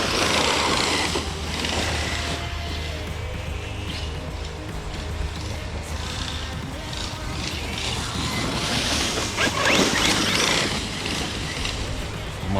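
An Arrma Kraton EXB RC car runs with a failing, noisy differential, giving a continuous mechanical whir with grinding rattle and bursts of gritty hiss, moderately loud and steady, with no voices.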